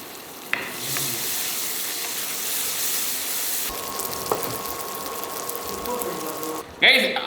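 Tomatoes fry in a pan for a garlic curry, making a steady close sizzle. Partway through a brief tone and a soft knock cut in, and a sharp clatter lands near the end.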